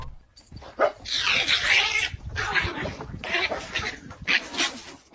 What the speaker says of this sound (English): I always thought a cat would get knocked out instantly before even starting a fight with a dog